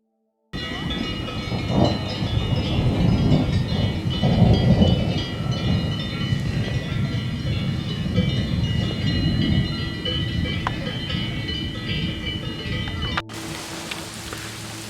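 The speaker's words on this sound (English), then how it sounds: "It started to rain, it started to thunder" Rain falls steadily in the Swiss Alps with deep rolling thunder rumbling throughout, a sustained stormy wash with no voices.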